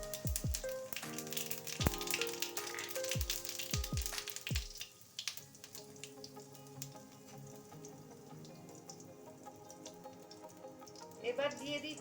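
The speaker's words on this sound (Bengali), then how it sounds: "আবারও কড়াইতে তেল দিয়ে দিয়েছি অল্প করে। এবার দিয়ে দেবো এর মধ্যে 2টো তেজপাতা আর অল্প একটু জিরে।" Two bay leaves and a pinch of cumin seeds crackle and sizzle in a little hot oil in a wok, with a few sharp pops and light clinks early on before the frying settles into a steady, softer hiss.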